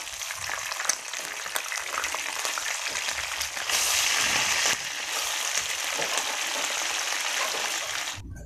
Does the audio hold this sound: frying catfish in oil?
yes